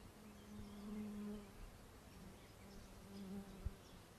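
Honeybees from a package-supplying colony, heavily smoked through the hive entrance, give off a faint, steady buzzing with a low hum running beneath it and one brief knock near the end.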